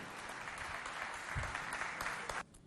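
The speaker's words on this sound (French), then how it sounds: "sous vos applaudissements" Brief applause from a parish gathering crowd, a dense spread of clapping hands held at an even level before cutting off abruptly near the end, fairly soft and distant.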